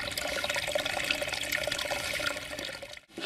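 Water pours steadily into a plastic bottle from a spring at a wild camp in wind and rain, a dense continuous splashing rush that breaks off just before the end.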